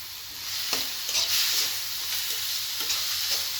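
Scrambled egg and chopped tomato sizzle steadily in a pan while a utensil stirs, with a few distinct scraping clicks over the continuous close, fairly loud hiss; no voices.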